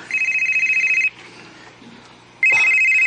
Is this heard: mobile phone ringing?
yes